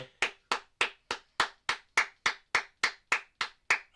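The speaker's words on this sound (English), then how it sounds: "I'll give that a clap there." One person claps alone in a steady, even rhythm, about fourteen crisp, close claps at a regular pace with nothing else around them.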